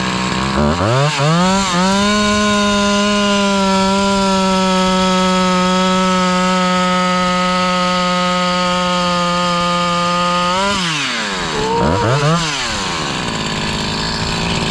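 Husqvarna 346 XP chainsaw with a newly rebuilt top end, revving up quickly and holding a loud, steady high-pitched scream close by before dropping back and blipping again.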